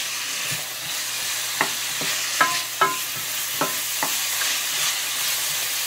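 Onions, garlic and tofu fry in a pan with a steady sizzle while a utensil clinks and scrapes in several sharp, close knocks.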